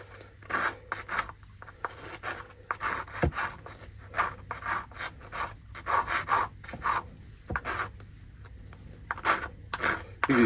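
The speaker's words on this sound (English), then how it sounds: "I'm just going to take a small file, and then I'm just going to go around the edge, and I'm going to take the sharp bits off" A small hand file rasps around the sharp edge of an up-cycled metal alcohol stove in repeated short, close strokes with brief pauses between them.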